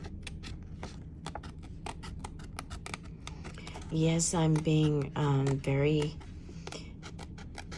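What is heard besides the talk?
scissors cutting paper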